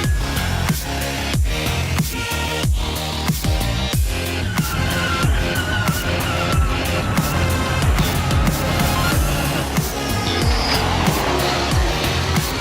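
Porsche and BMW race cars pack together at the start of a VLN endurance race at the Nürburgring, engines roaring loud and continuous with repeated sharp gear-change bursts as the field streams past the start-finish gantry.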